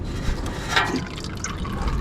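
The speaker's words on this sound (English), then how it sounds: "And oil will drip out." Engine oil drips and trickles from a Nissan Micra K11 during a home service, a soft steady liquid patter with a brief splash, heard alone.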